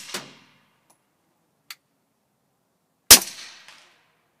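Canik TP9 SF pistol with threaded extended barrel firing: a sharp close shot at the start, a faint metallic tick, then a louder single report with brief ringing decay, no talking.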